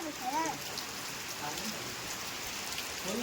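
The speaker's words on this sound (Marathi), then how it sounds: "आहे कोकणात आणि मस्त पाऊस पडतोय" Monsoon rain falls steadily in a soft, even hiss in Sangameshwar in the Konkan region of India, with faint birdsong chirping now and then in the background.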